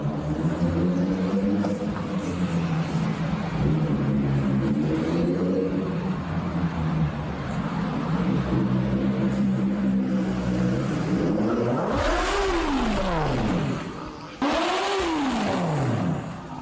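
A motorcycle engine revving hard inside a parking garage during a police chase, loud repeated rising and falling revs echoing off concrete, with sharp pitch sweeps as the bike accelerates and brakes near the end.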